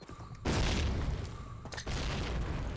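A grenade blast in the World War II shooter Call of Duty United Offensive, a loud booming burst followed by a second heavy boom and rumbling gunfire noise.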